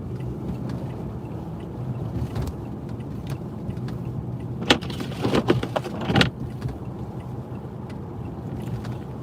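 A car drives along a snowy Chicago highway in a snowstorm, its steady road rumble and muffled cabin noise continuous, with a few brief clicks and rattles inside the vehicle partway through.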